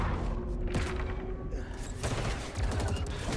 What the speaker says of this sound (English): it looked like he pulled the trigger like one time and then like bop, bop, bop, bop, like 4 shots came out